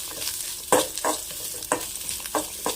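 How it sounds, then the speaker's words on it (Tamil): Chopped coconut and onions sauté in a pan over a low flame for mustard chutney, with a quiet background sizzle broken by about seven distinct scraping stirs at uneven intervals. "அடுப்பை நல்லா லோ ஃப்ளேம்லேயே வச்சுக்கிட்டு இதையும் ஒரு ரெண்டு நிமிஷம் நல்லா வதக்கிக்கோங்க"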